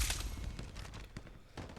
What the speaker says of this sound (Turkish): Önümüzden silah seslerimiz geliyor.